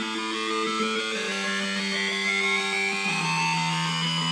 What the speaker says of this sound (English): as I change the frequency of one of the oscillators while just playing the keyboard.